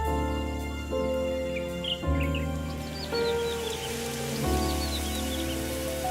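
Steady rain falls over a wetland, a continuous wash of drops with a few bird chirps and tweets scattered faintly above it, all under tonal background music with no talking.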